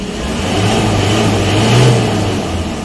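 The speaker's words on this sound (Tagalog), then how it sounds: "rev mo siya up and down para mabilis ang ma-mix" An Isuzu Sportivo engine revs up and down, a loud, close mid-range engine drone that swells to a peak and then eases back toward idle, heard alone without speech.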